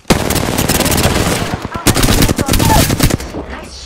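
Rapid automatic weapon fire in the video game Apex Legends, loud close bursts of shots overlapping with impact sounds, with a brief gap midway before firing resumes and tapers off.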